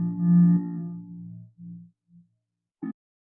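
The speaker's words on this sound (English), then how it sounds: "if I filter everything out, essentially I get to the fundamental, no overtones, essentially a sine wave" Synthesizer tone filtered down to a pure, overtone-free sine-like note, sounding as a low hum that swells, then breaks into short fading pulses before a brief final blip amid silence.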